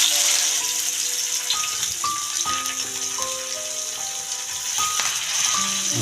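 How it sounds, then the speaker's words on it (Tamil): Sardines seasoned with pepper and salt fry in oil, giving a steady, dense sizzle and crackle that holds evenly throughout, with a few faint clinks and rattles from the pan on top. "மீன் மத்தி கொஞ்சம் குருமிளகு உப்பு வறுக்கிறதுக்கு மாதிரி நல்லா எண்ணெய் தெளிச்சிட்டு"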